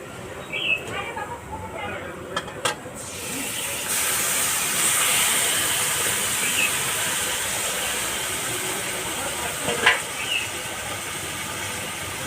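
Mutton drops into a hot pan of fried onions, part of a big batch of about two and a half kilos of meat, and sizzles in a strong, steady hiss with people talking nearby.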